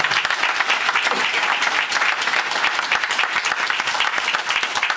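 Steady, dense applause from an audience honoring a Lifetime Achievement Award recipient at a Black History event on Long Island, continuous clapping throughout at full volume with no voices rising above it.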